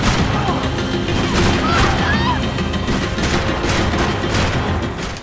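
Gunfire in the video game Max Payne 3 comes as a dense, loud fusillade of shots and impacts, close and continuous, mixed with game voices and chaotic action noise.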